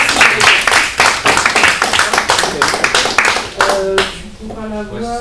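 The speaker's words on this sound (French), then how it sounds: "Vous pouvez l'applaudir" An audience claps at a company presentation in dense, steady applause that fills most of the stretch, then thins out and stops as a voice begins over the tail.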